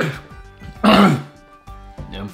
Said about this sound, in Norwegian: farlig hoste nå i disse koronatider